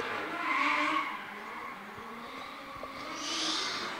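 A 700-horsepower 2JZ-powered Nissan S14 with no front bumper drifting at Baypark Stadium, tires squealing in long screeching bursts with engine drone underneath, fairly distant and rising again toward the end.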